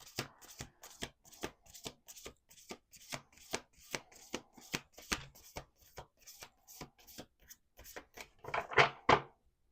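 Close, crisp card shuffling: steady repeated riffles and taps, then a louder final flurry of cards bridging together.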